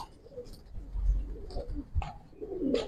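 Giribaz pigeons cooing nearby in a loft, a few soft low throaty coos spread across a short stretch, with no one speaking.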